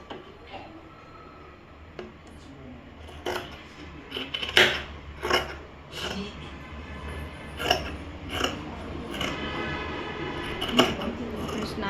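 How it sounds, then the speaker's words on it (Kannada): Scissors cut through thick four-layer folded lining cloth, giving a series of sharp crunchy snips spaced irregularly, close and moderately loud over a quiet room. "ಫ್ರೆಂಡ್ಸ್ 4 ಫೋಲ್ಡ್ ಆಗುತ್ತಲ್ವ, ದಪ್ಪ ಅನಿಸುತ್ತೆ ಬಟ್ಟೆ, ಹಾಗಾಗಿ ಕತ್ರಿ ಸ್ವಲ್ಪ ಸೌಂಡ್ ಮಾಡ್ತಾರೆ ನೋಡಿ"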